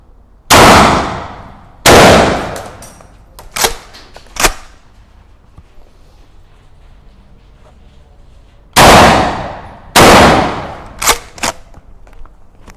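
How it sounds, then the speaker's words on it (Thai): Hunt Group MH 12 over-under shotgun firing buckshot outdoors: four loud sharp blasts in two pairs, each with a rolling echo, plus fainter clicks of the action between shots. "ลำกล้องซ้ายมือที่จะยิงด้วยบัคช็อตเนี่ยเป็นฟูลโชคเบอร์หนึ่งนะครับ"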